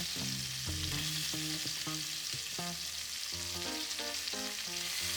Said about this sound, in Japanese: 周りだけだから弱火じゃなくて結構中火以上で焼いていったらいいかもしれません